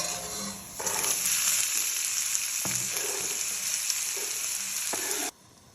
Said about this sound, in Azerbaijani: Göbələyi yüksək ateşdə bişirirəm ki,